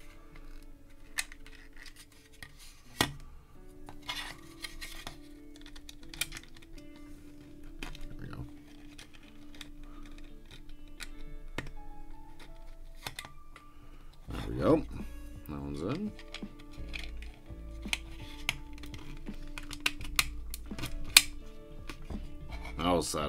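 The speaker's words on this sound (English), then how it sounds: "We're just going to be clicking them into place." Plastic parts of a DeAgostini and Fanhome Star Wars Millennium Falcon model kit snap into place with small, sharp clicks and light handling taps, scattered through steady conversational talk.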